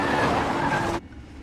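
A car driven recklessly at night with tyres skidding: a loud, close, sustained screech of rubber that cuts off abruptly after about a second, leaving low rumble.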